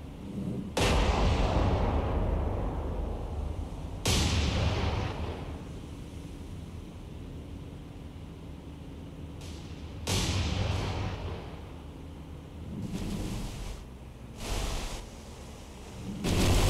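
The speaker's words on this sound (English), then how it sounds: "Alright, main battery from New Jersey once again. Fire." Heavy 16-inch main battery guns of the USS New Jersey boom in a naval combat game, several loud deep blasts spaced seconds apart with rumbling tails, followed by further thuds of shells landing around a Shokaku-class carrier.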